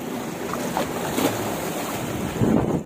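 Ocean waves at a beach resort wash steadily against the shore, with a constant roar and gusts of wind buffeting the microphone.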